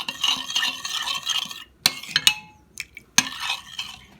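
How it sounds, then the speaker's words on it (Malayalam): Risen, fermented yeast mixture for kuboos dough being stirred in a bowl, with a steady run of wet scraping strokes followed by a few sharp clinks of a spoon against the container, close and fairly quiet, no talking. "നമ്മുടെ ഈസ്റ്റൊക്കെ നന്നായി ഫെർമെൻ്റായി വന്ന് ഇത് നന്നായിട്ടൊന്ന് മിക്സ് ചെയ്ത് കൊടുക്കാം"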